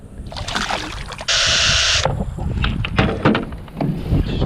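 Wind gusting outdoors at a boat launch on a cold day, blustery rumble buffeting the microphone with one sustained loud gust, mixed with faint water and handling noises.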